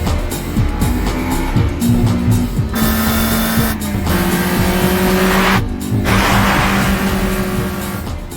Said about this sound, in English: It has tons of power at the rev limit, but upshifting causes a power loss.